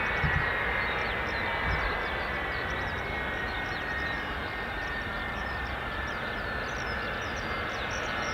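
Steady roar of military aircraft jet engines, Pratt & Whitney F117 turbofans, a continuous broadband rumble with a high whine, holding fairly constant and moderately distant with no voices.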